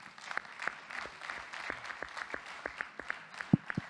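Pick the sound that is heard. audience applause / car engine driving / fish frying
audience applause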